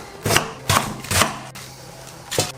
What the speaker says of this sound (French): Le chou blanc, je vais le couper en 4.